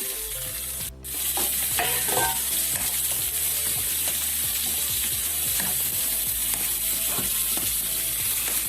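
Onions sizzling in a pan with crab, ginger and garlic for a crab fry, a steady loud frying hiss with repeated scraping stir strokes throughout.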